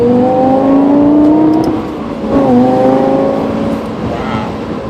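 A Lexus LFA on a test drive, its engine note rising and falling in tone as the gearbox downshifts, loud and close inside the car with a brief rev blip midway.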